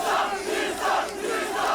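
A crowd roars and cheers in surging waves at a semi-pro MMA fight, loud and continuous with swelling bursts of shouting.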